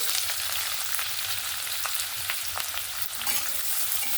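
Finely chopped onion fries in oil in a pan after the tempering spices, giving a soft continuous sizzle with a few faint stirring scrapes; close but fairly quiet, with no voices.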